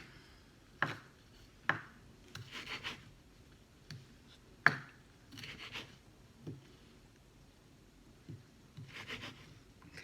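A knife cuts ingredients on a board for sour lentil soup, giving sparse, quiet taps and scrapes at an irregular pace, with soft rustling between the strokes.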